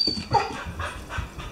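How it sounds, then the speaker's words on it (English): A puppy near the beach whimpers and yips softly in a few short, close whines and small cries. "Can you hear the puppy weeping?"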